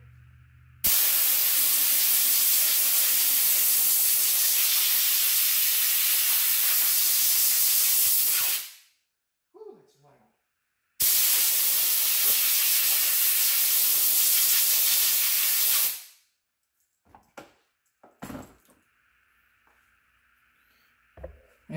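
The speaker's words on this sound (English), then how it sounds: "I'm using my air compressor to blow it off" An air compressor nozzle blows loud, steady bursts of hissing air across a titanium knife part, two long blasts of about eight and five seconds, followed by a few short puffs and quiet handling noises.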